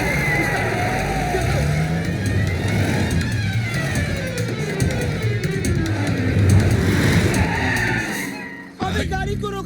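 A car engine starts and the car pulls away, with a loud revving drone whose pitch rises and falls as it accelerates, heard under frequent shouting voices, ending in a sudden cut.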